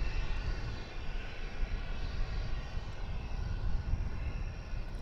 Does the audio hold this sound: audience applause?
no